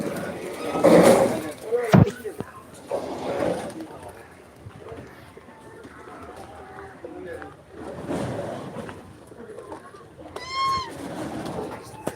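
Pigeons coo softly around their coop while people talk nearby, with a loud bang early on and intermittent bird calls through the rest.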